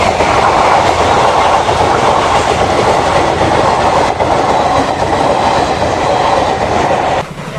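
A train passing close by on railway tracks at Devipur under a cloudy sky, with a loud, steady rumble and rhythmic clickety-clack of the wheels that lasts several seconds and then eases slightly at the end.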